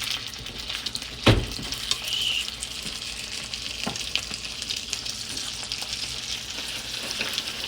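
Beef pieces sizzle steadily in melted unsalted butter and a little olive oil, a constant close frying hiss with a sharp clatter of a utensil near the start and occasional small pops.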